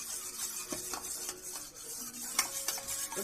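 Cake batter made with ghee and jaggery is beaten in a bowl, producing quiet, irregular scraping strokes and light clinks of the utensil against the bowl's sides.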